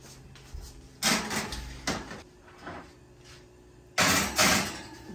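An oven door for a rack of fall-off-the-bone barbecue ribs bangs and clatters in two bursts, the first near one second and the second near four seconds, each followed by softer knocks against a quiet kitchen background.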